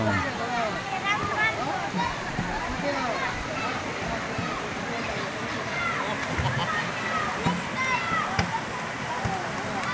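Creek water splashes and sloshes steadily close by for the whole stretch while someone talks over it.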